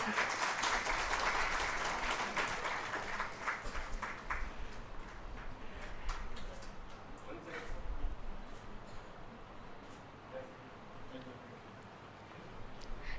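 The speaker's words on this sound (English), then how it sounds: "applause." Audience applause at a corporate symposium in Hyderabad, strong at first and fading over several seconds, with scattered claps and room noise afterward.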